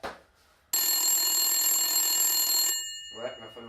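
A telephone rings with a loud, sustained electronic trill lasting about two seconds, preceded by a brief voice and followed by someone talking.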